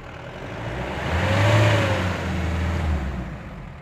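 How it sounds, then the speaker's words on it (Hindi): Mahindra Bolero CRDI diesel engine with a starting fault, revving up as the accelerator is pressed, then the drone dipping and fading as it dies out; close, loud and continuous with no talk. "अब मैं एक्सीलेटर करूँगा,"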